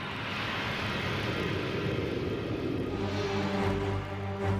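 A fleeing airplane produces a continuous, fairly faint engine roar that holds steady, then shifts to a more tonal whine near the end, in a dramatized Tokyo tsunami disaster sequence.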